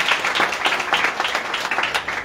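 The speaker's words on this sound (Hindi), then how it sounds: "ताली बजा के" Congregation clapping hands together at a roadside sermon, a dense, steady patter of many claps lasting a couple of seconds with no voices over it.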